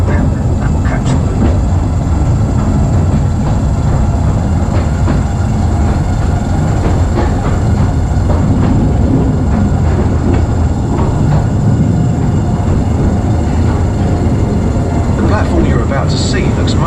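The London Mail Rail underground postal train rumbles loudly along its narrow track in a tunnel, a continuous heavy roar with rattling wheel clatter, while people speak over it.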